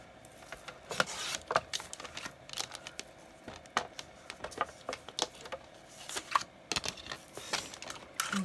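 Scissors or a paper cutter slice through 8.5 by 11 inch paper for a snowflake card, producing a string of close, crisp clicks and snips at an irregular pace, fairly quiet against a soft background hum.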